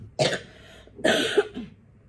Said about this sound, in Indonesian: Sorry, aku batuk soalnya.